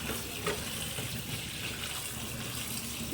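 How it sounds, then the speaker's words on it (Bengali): Running water rinsing boiled soya chunks in a basket, a steady faint splashing wash throughout without breaks. "সোয়াবিনটিকে আমি ভালো করে জল দিয়ে ধুয়ে নিই"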